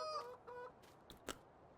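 A rooster in Farming Simulator 19 gives a few quick, faint clucks and squawks, brief and clipped, ending in one sharper call, nothing else around it.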